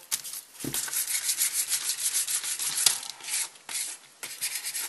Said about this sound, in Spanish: Vamos a usar un trozo de lija blanca normal